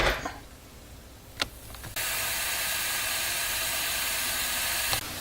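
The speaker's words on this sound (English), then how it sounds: "we got a little boil there" Liquid comes to a boil in a Ninja cooking system, a loud steady hiss of steam and bubbling that starts abruptly after a couple of clicks and runs on without voices.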